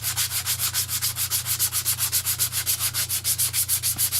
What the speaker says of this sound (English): Just giving it a bit of a rough off so the epoxy will stick well to both sides.